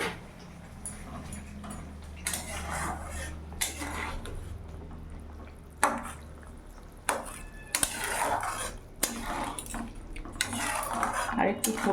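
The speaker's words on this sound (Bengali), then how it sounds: "আমি এবার ঢাকাটা খুলে দেখবো কিছুক্ষণ ঢাকা দিয়ে রেখেছিলাম" Metal pan lid lifted and a spoon stirring fish curry with potatoes on a gas stove, with clanks and scrapes over a simmering background, close by.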